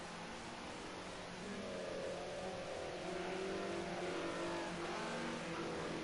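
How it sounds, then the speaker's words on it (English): A BMW M3 E30 Group A touring car drifts around Silverstone in racing warm-up, its engine holding a loud, steady, droning note that swells and rises midway, with no voices. "Tim drifting the car, he's got the Les behind him."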